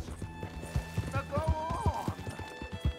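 Horse in Red Dead Redemption 2 galloping with rhythmic hoof clip-clops, breaking into a clear rising-and-falling neigh midway, while someone talks over it.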